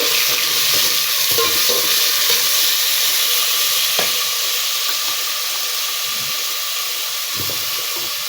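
Tomatoes and green chilies frying in hot ghee give a steady, loud sizzle with hissing steam throughout, broken by a few soft clinks and stirring knocks.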